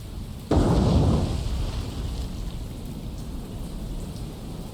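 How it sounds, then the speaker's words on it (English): A torpedo strikes a Tone class heavy cruiser in a naval warfare game, one sudden loud blast that opens the clip and then rolls off into a long low rumble with hissing spray. "One torpedo does hit this cruiser."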